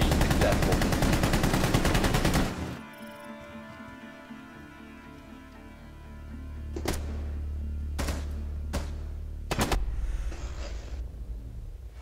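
Gunfire in Rainbow Six Siege: heavy continuous shooting for the first couple of seconds, then a quieter stretch broken by several separate sharp single shots.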